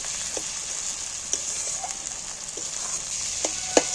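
Chopped tomatoes go into a frying masala for a jackfruit curry cooked with goat fat, giving a steady close sizzle with a few soft stirring clicks.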